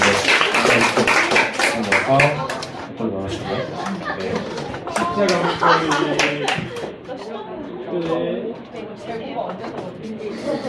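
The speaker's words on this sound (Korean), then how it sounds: "박수와 함께" Clapping from a small group at a birthday celebration right after a sung birthday song, steady hand claps mixed with chatter and voices talking over it throughout.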